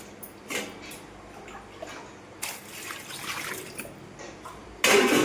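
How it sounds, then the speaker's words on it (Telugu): Water poured into a cooking pot of corn cobs set to boil, a soft intermittent trickle and splash with a few louder bursts, ending in a brief stronger pour; close and alone. "అలాగే కొద్దిగా వాటర్ వేసుకొని"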